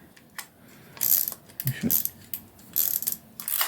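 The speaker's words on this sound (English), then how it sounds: "It's got a cloth shutter on this camera, which goes across like that." Cloth focal-plane shutter of a Zenit 11 film camera firing, a few short mechanical clicks and clatters, close and fairly quiet, with a brief spoken voice in between.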